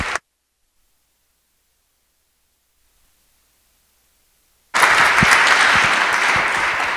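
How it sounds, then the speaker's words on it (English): Audience applause at an art lecture welcoming a speaker, a brief burst at the very start, then near silence before a dense wave of crowd clapping swells up and holds to the end. "If you would give me a warm welcome with a round of applause for him as he comes forward."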